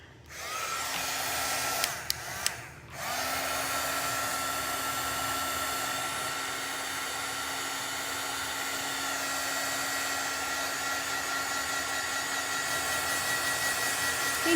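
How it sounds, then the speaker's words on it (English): A small handheld heat gun drying freshly applied paint on a craft surface, giving a steady, close, continuous blowing whir that runs almost the whole time, broken once by a brief clatter near the start. "I'm gonna turn on my little heat gun here and dry this real quick"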